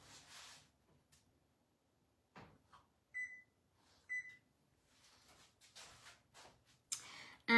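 A kitchen oven being switched on, with two short electronic beeps from its controls plus faint clicks and soft handling noises nearby in a quiet room, and speech at the start and end.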